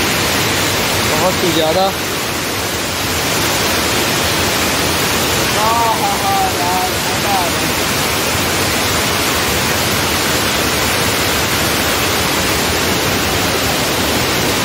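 Tons waterfall in Rewa roars as a loud, steady wash of rushing water that fills the whole stretch, with voices talking over it near the start and middle.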